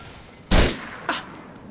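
Two gunshots in GTA IV, a loud close crack followed half a second later by a slightly weaker second shot, each with a brief decaying tail over a low game background.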